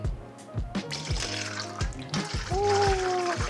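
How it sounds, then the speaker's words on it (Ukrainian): Cold water, 500 ml, poured into a mixing bowl for dough, a soft trickling and splashing stream with small drips, fairly quiet and close, without talk. "Ми додаємо 500 мл холодної води."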